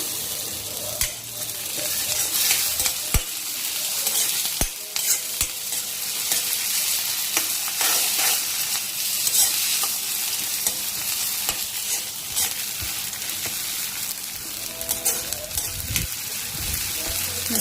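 Finely chopped tomato goes into reddened frying onion with garlic and green chillies, filling the pan with a strong, continuous sizzle and spatter, with repeated spoon scrapes and clicks throughout, close and steady.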